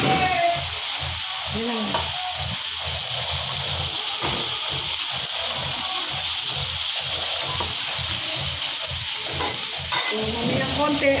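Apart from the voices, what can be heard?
mushrooms frying in pan with onion and garlic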